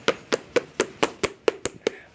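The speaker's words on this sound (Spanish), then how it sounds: "un aplauso para la Pulguita Recha," A single pair of hands clapping in a steady rhythm, about nine sharp, close claps evenly spaced roughly four per second, with no voices over them.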